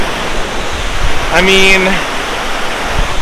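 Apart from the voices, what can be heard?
rushing mountain river in Kyrgyzstan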